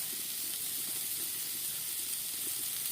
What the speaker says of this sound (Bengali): আবার খুব সুন্দর করে নেড়ে চেড়ে ভেজে রসটা শুকিয়ে নেব।